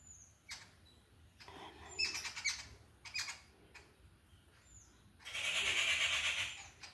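A crow fed a piece of bread caws several times in harsh, separate squawks, ending with one longer, louder call close by against a quiet outdoor background.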